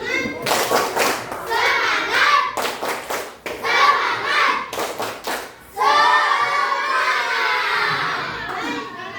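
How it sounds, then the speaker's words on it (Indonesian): Fourth-grade children in a classroom do a rhythmic group clap chant with loud bursts of clapping and shouting voices, sharp claps in uneven clusters followed by a sustained stretch of excited cheering close by. "sekali lagi tepuk semangat"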